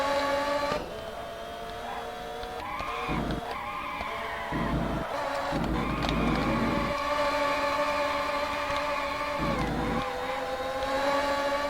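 Race car engines in a retro racing video game whine loudly through rising and falling synthesized tones as the car accelerates, with no talk over them.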